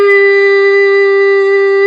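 A human voice imitates a shofar tekiah blast for Rosh Hashanah, producing one loud, sustained, steady horn-like tone held for about two seconds.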